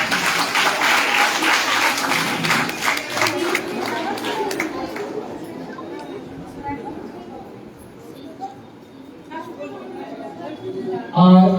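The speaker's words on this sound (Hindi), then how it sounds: "इधर देखो तालियां बजाओ एक बार।" Audience applause with chatter at a prize ceremony for a drawing competition, loud clapping from a crowd that gradually thins out, while a presenter speaks over it.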